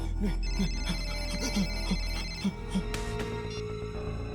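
A phone ringtone plays as a repeating pattern of short tonal pulses, fairly faint over a steady low hum, in a scene from a Hindi horror drama.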